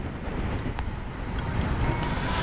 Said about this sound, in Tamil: இந்த கடற்கரை பகுதியில் தற்பொழுது இன்று காலை முதல் புழுதி காற்று அதிக அளவில் வீசுவதை